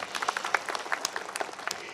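An audience at a comedy evening show bursts into loud, dense applause, with sharp claps crowding together into a steady wash of sound for the whole stretch.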